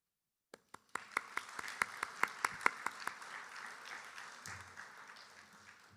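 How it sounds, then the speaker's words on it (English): Audience applause at a Bharatanatyam arangetram, starting with a few sharp individual claps that grow into a moderate round of clapping from the crowd, then gradually fading. "Can we have a big round of applause for my wife, Parul?"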